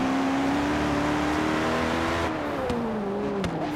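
A gold-plated millionaire's car in a racing video game screams with a high, Formula 1-like engine whine, revving steadily close up, then dipping and shifting pitch as gears change.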